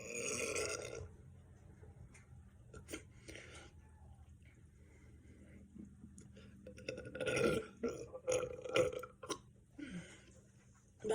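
Quiet, close burps come from someone chugging two cans of Pink Monster energy drink, with several short eructations clustered together among faint background sounds.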